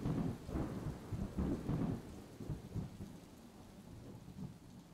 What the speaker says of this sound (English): She rolled away, her thunder echoing distantly through the canyons.